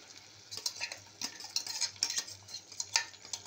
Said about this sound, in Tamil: சேர்த்து நல்லா கிளறி விடணும்